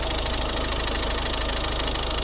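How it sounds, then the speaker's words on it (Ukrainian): A steady, unbroken idle from a 2011 Volvo V50 1.6 diesel with start-stop, eight valves and one camshaft: a low rumble and faint rhythmic knock, constant in level throughout, with no voices. "Ну от звук двигуна."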